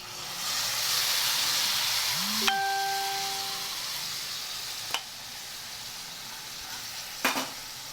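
Tomatoes sizzle steadily and quietly in a hot pan while being sautéed. A few sharp clinks and taps break through the hiss, and a brief tonal squeal rises in the middle.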